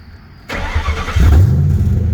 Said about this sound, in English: Let's get it started up.